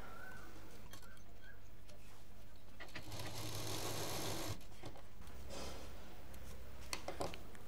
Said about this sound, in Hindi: इतनी ऊंचाई पर हम इसको सिल रहे हैं।